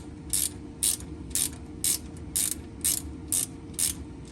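A ratchet wrench loosening a 14 mm bolt on a Nissan 350Z oil pan, eight evenly spaced sharp ratcheting bursts over a steady background hum, close and fairly loud.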